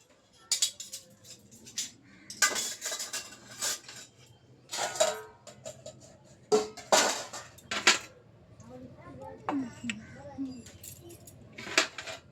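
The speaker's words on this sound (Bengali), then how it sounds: "এই বাসনগুলো আর কি জল ঝরে গেছে, এখন জায়গা মতো গুছিয়ে রেখে দিচ্ছি" Washed dishes and utensils being put away after draining, with repeated metallic clinks and clatters in bursts, fairly close, while a person talks intermittently.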